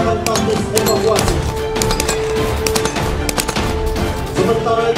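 Rapid bursts of automatic and single-shot gunfire from Indonesian marine counter-terror soldiers during a VVIP security exercise, loud and sustained across the whole stretch, with faint voices mixed underneath.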